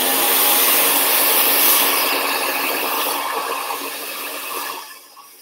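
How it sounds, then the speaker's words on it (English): A blow dryer runs steadily with a loud broadband whoosh while styling hair, then tapers off toward the end. "putting that blow dryer in there, rolling it down the forehead"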